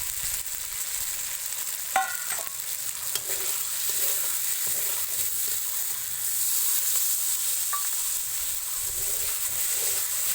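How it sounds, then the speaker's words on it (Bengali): Eggs frying with spice paste in a pan, a steady bright sizzle held throughout with occasional stirring scrapes and small clinks of a utensil, close and even, no voices. "এবার আমার ডিমগুলোকে দিয়ে মশলার সঙ্গে ভালো করে কষে নেওয়া হচ্ছে"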